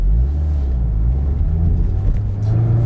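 A 2020 Mazda MX-5 RF sports car rolls over rough railroad tracks after turning a corner, a heavy, steady low rumble of tires and road noise with faint bumps, close and continuous with no talking.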